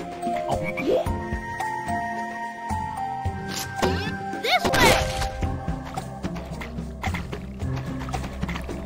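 Frogs croaking in the video game A Boy and his Blob, forest level, with repeated throaty croaks and bouncy game effects over a looping musical background, one loud burst near the middle.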